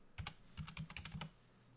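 Typing on a computer keyboard while entering a command in Kali Linux: a short burst of about half a dozen crisp key clicks, close and clear, with no voices.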